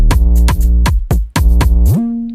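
Kick drum run through a limiter in FL Studio for a beat, hitting in about five loud, punchy, booming thumps with deep sustained low tones, ending in a held rising bass note, no talk.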